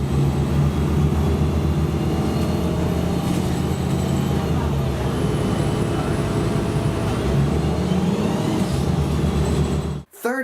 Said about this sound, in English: the first few series and our 30-footers, the 3400s, can have really rough transmission